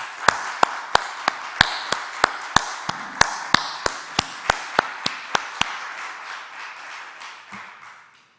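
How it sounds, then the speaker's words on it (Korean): A small church congregation claps together in a steady, evenly spaced rhythm, about seventeen sharp unison claps, the beat loosening and fading into scattered softer clapping toward the end. "성전에서 우리 한번 감사 영광의 박수를 한번 드리면 어떨까요?"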